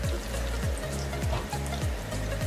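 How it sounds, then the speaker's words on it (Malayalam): Onions sautéing in a pan for a pressure-cooker vegetable pulao give a steady, close sizzle, with low scraping sweeps from stirring repeating about every half second. "സവാള ഒന്ന് ട്രാൻസ്പെറന്റ് ആവുന്നത് വരെ വഴറ്റി കൊടുക്കണം കേട്ടോ."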